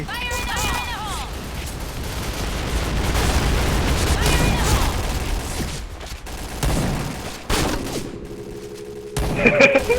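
Rapid gunfire from an online shooting game rattles in dense bursts with booming shots and mechanical clicks, loud and continuous for most of the stretch before thinning out near the end.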